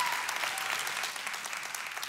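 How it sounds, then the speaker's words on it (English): Applause-like clapping sounds throughout, fairly even and continuous at moderate volume, with no voices. "I should know better than clapping right there."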